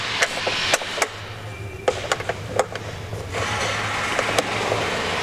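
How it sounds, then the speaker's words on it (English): A ratchet with a 7/16 socket loosening the headlight adjusting screws on a snowplow, a series of sharp clicks and taps at an irregular pace over a low steady engine hum. "just a ratchet and a 7/16 socket to loosen up the 4 horizontal adjusting screws on the lights themselves"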